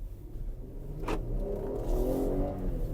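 A Jeep Grand Cherokee engine idles then revs up, a steady mid-pitched drone rising in pitch, close by, with no talking.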